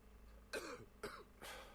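A video game character in Agatha Christie: The ABC Murders coughs three times in quick succession, harsh and throaty bursts evenly spaced against a quiet background.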